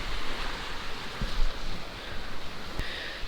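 Sea waves washing against the rocky coast along the Yeongdeok Blue Road trail in winter, a continuous broadband rush with a few sharper surges, steady and fairly loud with no talk.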